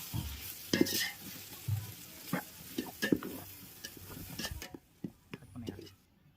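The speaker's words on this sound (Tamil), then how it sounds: "நல்லா தக்காளி மசிற வரையும் நல்லா வதக்கிட்டே இருக்கலாம்" Tomatoes being sautéed and stirred in a pan for beef nalli biryani, about 300 g for a kilo batch: quiet, steady sizzle with irregular scraping stirs, and low talking at times.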